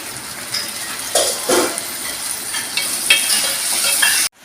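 Sliced tomatoes frying in hot oil for a mutton curry, a steady close sizzle with brief louder hissing bursts and stirring, cutting off abruptly at the end.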